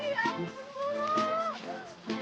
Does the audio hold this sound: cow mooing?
yes